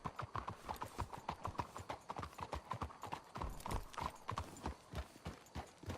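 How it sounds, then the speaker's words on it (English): Horses' hooves clip-clop in a steady, even walking rhythm in Red Dead Redemption 2, close and fairly quiet, with no talk over them. "Let's hitch the horses up ahead"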